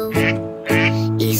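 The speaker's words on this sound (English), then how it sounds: "Quack says the duck" A duck on a farm gives three loud, close, nasal quacks at a steady pace, with no other sounds between them.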